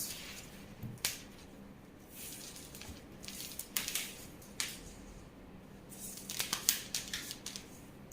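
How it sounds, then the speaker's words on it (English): Scissors cut out a fabric pocket for a boubou gown, producing quiet, scattered snips and crisp cloth rustles at close range, irregular and faint throughout with no voices. "And then for the pocket, we cut this out."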